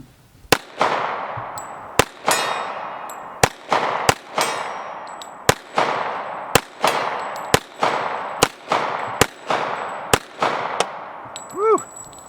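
Ten sharp, loud shots from a 1911 pistol fed from a PMag, spaced about a second apart with ringing decay after each, ending with faint metallic clatter.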